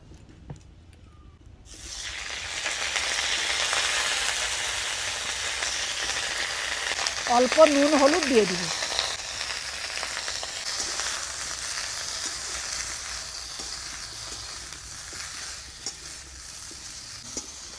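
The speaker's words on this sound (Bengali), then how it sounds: "দিয়ে দিব সরষের তেল এবারে সবজিগুলোকে ভেজে নেব" Vegetables, broccoli among them, fry in mustard oil with a steady sizzle through most of the clip. Someone speaks briefly in the middle over the frying.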